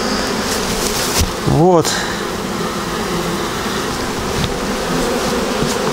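Honey bees at an apiary make a dense, steady buzz that fills the scene close to the microphone, with a brief voice speaking once.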